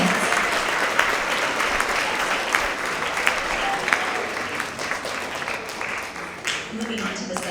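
A school award assembly audience applauds students, a dense sustained round of clapping with sharp individual claps popping out, steady for several seconds before thinning slightly near the end.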